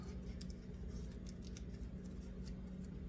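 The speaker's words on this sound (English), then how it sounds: "that wax paper doesn't want to let go." Wax paper is peeled off a full French-Canadian tourtière meat pie, giving a quiet crinkling and tearing sound in a series of short, crisp rips close by.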